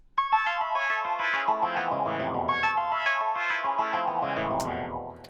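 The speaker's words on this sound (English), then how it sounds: "something that I named descending arps because it's like a synth line that just descends downwards" A bright synth arpeggio line steps downward in quick repeating notes, layered with echo, chorus and distortion effects, playing steadily and fairly loud with no voices.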